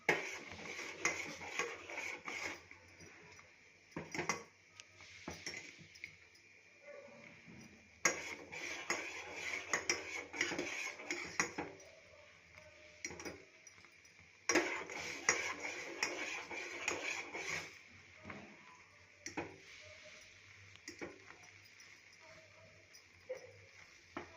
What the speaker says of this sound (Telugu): కాసేపు అలానే కలుపుతూ ఉండాలి, చిక్కబడుతుంది.